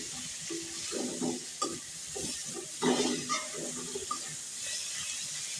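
Fried potatoes are stirred in a cooking pan: a soft, continuous sizzle runs under repeated scraping and shuffling strokes, fairly quiet and close, with no talking.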